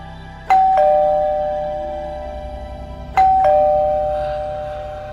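A house doorbell at a front gate chimes twice, each a loud ding-dong with two struck tones ringing out and slowly decaying, alone in a quiet setting.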